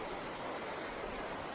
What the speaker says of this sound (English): There's 10 Mile River again.